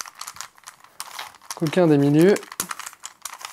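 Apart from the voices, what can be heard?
Rubik's cube being twisted and scrambled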